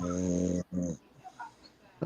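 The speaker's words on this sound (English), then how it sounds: "Somebody snoring." A person snoring over an unmuted call, heavy rasping breaths in two drawn-out pulls with a short gap between, fairly close and loud, followed by quieter room noise.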